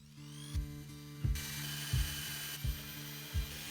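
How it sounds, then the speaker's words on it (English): A power drill whines steadily while drilling bolt holes in metal tubing, with five short grinding bursts spaced about every half second to second, close by. "Drilling bolt holes at both ends of the tubing will enable fitting the tie rod to the assembly."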